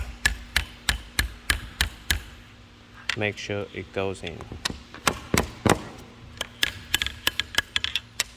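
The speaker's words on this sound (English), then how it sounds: "This one's a little bit hard, so you need a hammer." Hammer taps a part into a slim C-shaped table during assembly, struck in a steady run of sharp, close knocks, pausing briefly while a person speaks, then resuming with further repeated blows.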